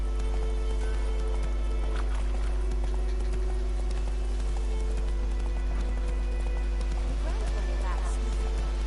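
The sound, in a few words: horse galloping hooves, video game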